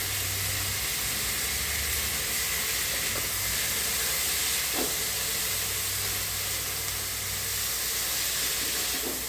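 Boiled sweet corn sautés with onion in a pan for masala sweet corn, giving a steady, broad hissing sizzle with faint low hum and an occasional soft clink of the spoon.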